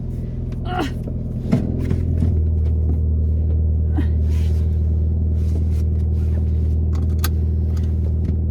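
A car rolls along a bumpy road, its low engine rumble steady throughout, with interior rattles and jolts scattered over it and people talking inside.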